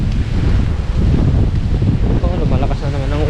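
Strong wind blasts and rain from a storm buffet the microphone in a loud, rough roar, and a voice speaks near the end.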